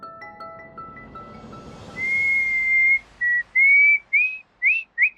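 A person whistles a melody close up, starting with a few faint notes and then giving sustained and rising tones in short bursts that get quicker and choppier toward the end.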